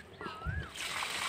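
Water poured from a container onto a crape jasmine plant in a rooftop garden on a hot summer morning, a brief splashing gush that follows a spoken voice.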